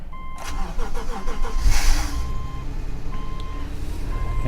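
A 2013 Subaru engine cranks over with the key and catches, settling into a steady idle that runs loud and close alone, with a faint tonal chime sounding in the background.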